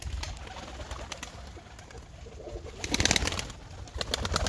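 Kerkük perdeli pigeons coo in a steady low murmur, the cooing swelling louder around the middle and again near the end, with a few faint chirps over a soft outdoor background.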